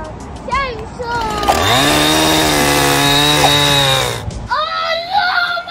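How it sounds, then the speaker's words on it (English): A toy chainsaw runs in a playroom, giving a steady buzzing whine for about three seconds with a sharp start and stop, with children's voices chattering before and after. "Chainsaw!"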